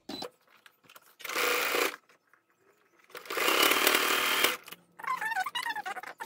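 Sewing machine stitching a fabric face mask with a regular straight stitch, running in two loud sustained bursts separated by a pause, followed by a person speaking.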